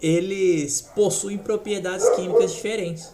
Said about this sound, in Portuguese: eu peço desculpa pelos meus cachorros